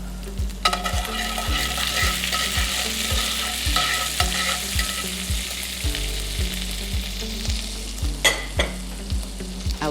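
Garlic and rosemary aromatics sizzling in a hot pan, a dense continuous frying hiss with regular rhythmic scraping knocks from stirring, close and loud, no talking.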